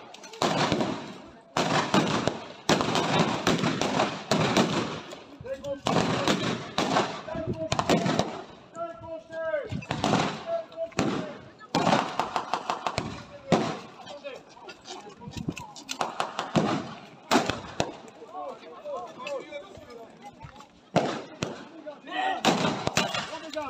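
Battle gunfire during combat at Mont-Saint-Eloi: repeated loud bursts and shots, some rapid and clustered, keep breaking out, with shouted commands in French over the fighting.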